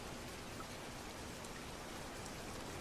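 Steady, continuous rain falling on a surface, a dense even hiss of drops that holds at the same level throughout, fairly quiet, with no voices or other sounds over it.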